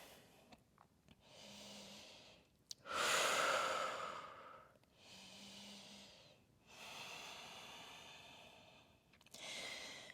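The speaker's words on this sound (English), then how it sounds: "If you find yourself like me, breathing through an open mouth" Heavy open-mouthed breathing during a yoga session in downward facing dog, slow alternating inhales and exhales, close and fairly quiet, each breath a long airy hiss with pauses between.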